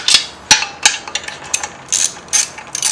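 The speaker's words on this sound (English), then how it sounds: "tighten up some of your bolts on your pressure plate" A ratchet wrench tightening the pressure plate bolts on a Mazda Miata clutch, with a series of sharp, close clicking bursts in an uneven rhythm and no talk.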